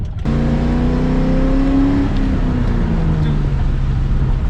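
2004 Ford Mustang GT with an MGW short-throw shifter, its exhaust revving in one long, loud, close drone whose pitch climbs, then slowly sags as the revs fall away, with no talk.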